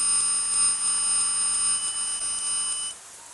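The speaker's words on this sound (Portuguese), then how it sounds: "Em qualquer local da carcaça que eu colocar o multímetro aqui, a ponta vermelha, a ponta preta, vai bipar" Multimeter continuity tester beeping as the red and black probes touch grounded points on an electronic device's metal chassis; a steady, fairly faint electronic tone holds for about three seconds, then cuts off, with no talking.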